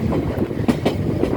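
Passenger train running steadily, heard from inside the carriage: a loud, constant low rumble with faint rhythmic clicks of the wheels over rail joints, no voices.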